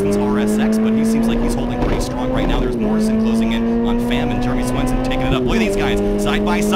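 Race cars run side by side through a tight, twisty stadium section at Circuit of the Americas, their engines droning loudly and continuously with gear changes and a pitch shift, under a commentator's voice.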